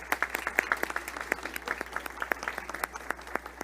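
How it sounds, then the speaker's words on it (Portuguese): Applause for participants at the close of a business panel on digital-era management, culture and technology, a modest crowd clapping in an irregular patter of distinct, fairly close claps that continues steadily throughout. "Uma salva de palmas para os nossos participantes."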